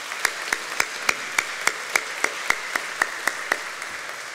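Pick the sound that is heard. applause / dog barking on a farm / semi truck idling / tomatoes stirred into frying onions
applause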